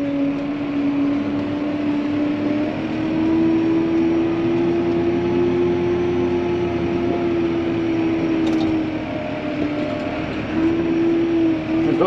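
A vehicle drives steadily in four-wheel drive and low gear on a farm while delivering hay, giving a continuous droning engine hum with a steady whine that stays even and fairly close throughout.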